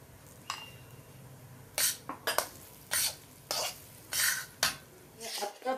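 Gram flour is stirred and roasted in ghee for besan ladoo, with a spoon scraping and knocking against the pan in distinct, irregular strokes over a faint, steady sizzle, close and fairly loud.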